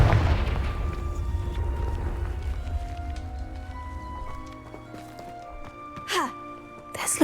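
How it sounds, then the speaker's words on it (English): A Confringo fire spell in Hogwarts Legacy sets off a deep, rumbling blast that rolls and decays over several seconds, followed by a couple of sharper crackling bursts near the end. "Let's blow this up. Confringo."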